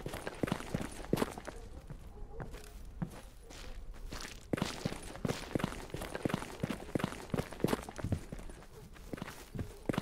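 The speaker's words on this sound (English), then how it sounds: "I hear footsteps over there." Footsteps crunch along in the video game Stalker GAMMA, a steady run of close, distinct paced steps with a brief pause before they resume.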